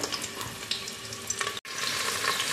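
Carrot pieces frying in a pan for gajar ka halwa give a steady, close sizzle with faint stirring scrapes and a brief break near the end, and no one talks.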